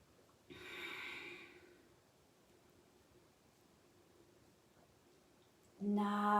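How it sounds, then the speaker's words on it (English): A yoga practitioner exhales through the nose in one soft, breathy whoosh lasting about a second. A quiet pause follows, then a louder breath sound comes at the very end. "exhale through the nose"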